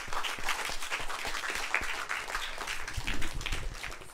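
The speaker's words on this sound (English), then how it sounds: "So let's give Talia a round of applause." Classroom audience at a guest lecture clapping for a student volunteer, a lively uneven patter of many hands close by, holding steady for four seconds with a brief louder swell near the end.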